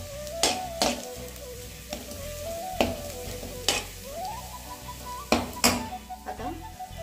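Grated coconut and grated dry dates fry on a low flame in a pan, stirred with loud, irregular spoon scrapes and knocks over a soft sizzle, with a tonal background running throughout.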